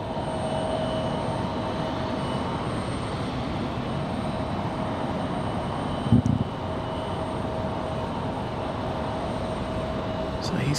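A jet aircraft circling around Raleigh-Durham International Airport gives off a steady, distant engine roar that holds for the whole stretch, with a brief thump partway through.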